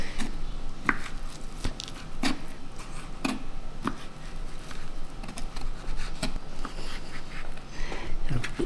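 Knife chopping ham into small pieces on a cutting board while making a homemade quiche Lorraine, with irregular sharp taps repeating close and moderately loud.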